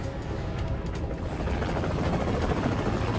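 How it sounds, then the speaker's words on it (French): A helicopter takes off from a hospital roof, its rotor beating in a loud, dense, continuous whir that holds steady up close with no pause. "Là, un hélicoptère."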